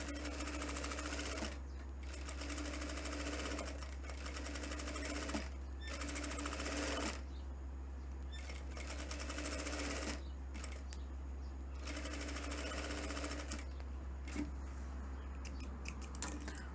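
A sewing machine stitches around the sleeve cap of a blouse in quiet, steady bursts of rapid mechanical whirring, broken by short pauses and faint small clicks, with a constant low hum underneath.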